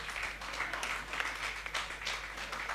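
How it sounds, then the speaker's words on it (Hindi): Applause from an audience at a stage event, a soft continuous patter of many hands clapping that swells slightly in spots, distant and faint throughout. "जोरदार तालियां आपकी, जोरदार तालियां"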